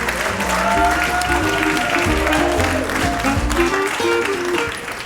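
An audience applauds at the end of Act 1 of a comedy play, a sustained wash of clapping over a few seconds with tonal music or sound underneath.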